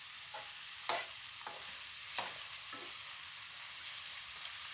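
Food sizzles steadily in a hot pan while a utensil stirs and scrapes through it in a few distinct strokes, close up and with no voices.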